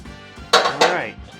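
Metal tools clattering and clinking in a tool tray during work on a 1937 Ford coupe, two sharp, close clanks in quick succession.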